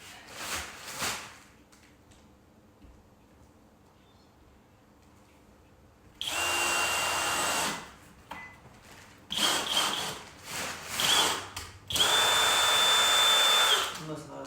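A power drill drives screws into reinforcement bracing during foundation repair at an investment property, whirring in three loud bursts of a few seconds each, with quiet stretches and a little talk between them.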